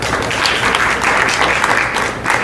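Brief, full applause from the audience at a TEDx question-and-answer event, loud and close, a thick wash of many hands clapping steadily with no speech.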